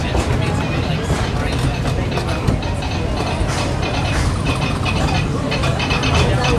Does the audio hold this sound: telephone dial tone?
no